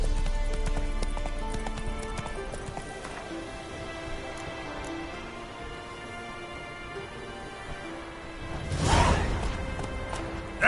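Hooves of Roach, a horse in the video game The Witcher, clip-clop steadily at a gallop across the whole stretch, with a loud whooshing burst near the end.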